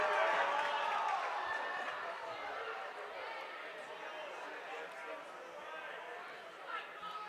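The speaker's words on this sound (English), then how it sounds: "Not sure what the crowd is hooting and hollering about." A hockey crowd at a high school playoff game between Waupun and Sauk Prairie, cheering and hollering as a steady, fairly faint rink-wide murmur that fades slightly over time, with a voice talking over it.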